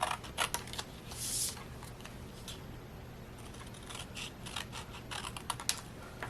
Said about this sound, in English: I'll just use my little scissors and come right along the edge